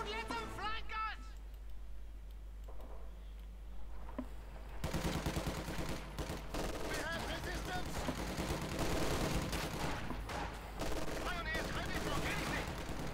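Light machine gun fire in a Company of Heroes 2 match, Soviet forces cutting down German Grenadiers, sounding as dense rattling bursts and overlapping gunfire that stay loud and steady for most of the stretch after a quieter opening.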